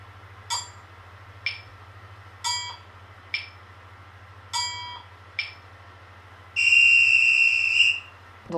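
A Pong mobile game's sound effects: six short clicks and chirps spaced about a second apart, then a sustained shrill whistle played on losing, lasting over a second, with a low steady hum underneath.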